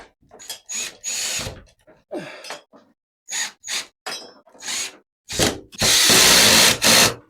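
A power drill drives metal bolts through metal parts while a Keter Darwin 6x8 plastic garden shed is assembled, giving a string of short, loud whirring bursts with brief pauses, ending in a longer sustained run up close.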